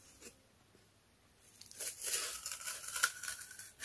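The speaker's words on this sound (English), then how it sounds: "So now I'm ready to start cutting those out as well." Scissors cut out paper shapes for spring and Easter crafts, starting with a few faint snips and then a busier run of crisp, rustling paper cuts up close.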